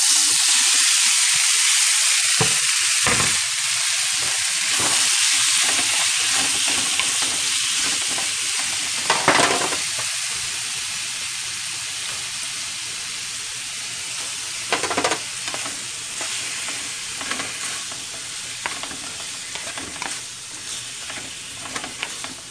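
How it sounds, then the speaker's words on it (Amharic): Fish and shrimp fry in a little oil in a preheated pan, a loud continuous sizzle with bursts of hissing and stirring scrapes that gradually quiet down, with no one speaking. "አሳና ሩቢያን እንጠብሰዋለን።"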